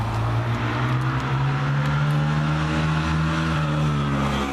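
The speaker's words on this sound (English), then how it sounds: "to take the mighty Plymouth down the road and see if we can hear a noise" A 1973 Plymouth Valiant cruising down a road, its steady low engine drone and tire rumble holding loud and close inside the cabin throughout, with no talking.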